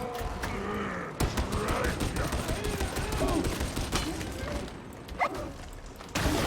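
An enemy gunner in Warhammer 40,000: Darktide fires in rapid bursts of gunfire, dense and loud, with crunching impacts and combat noise and a voice talking over the shooting.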